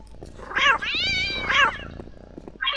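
Cat in the video game Postal 2: Paradise Lost, giving two long, loud drawn-out meows close by with a short cry starting at the end, no talking.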